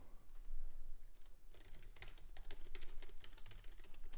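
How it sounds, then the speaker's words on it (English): Rapid clicking keystrokes on a computer keyboard during live day trading, irregular and continuous, close by and fairly quiet, with no talking. "If you do hear that typing"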